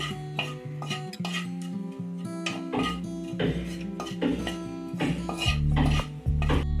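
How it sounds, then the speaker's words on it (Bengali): A spatula scrapes and knocks around a metal wok while soybean kofta mixture is stirred, giving irregular clinks and clatters, fairly close and clear with no talking. "এবারে কড়াটা জেলেছি, জেলে আমি এবারে এটাকে আস্তে করে আমি নাড়ছি।"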